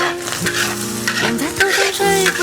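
Pig lung and pickled bamboo shoots are tossed in a wok over high heat, with a loud close sizzle and quick scraping strokes of the spatula.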